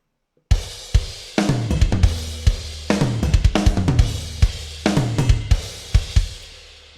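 A programmed drum kit from a favorite kit preset, treated with a FabFilter studio reverb and some limiting, plays a steady beat of punchy kick and snare hits with softened hi-hats, loud and alone with a roomy tail.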